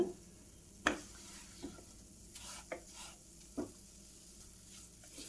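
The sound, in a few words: wheat rava being roasted in a pan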